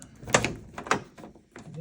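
Key being tried in the driver's door lock of a 2005 Ford Focus, giving a few close metallic clicks and clunks of the lock turning and latch moving, with a faint voice nearby.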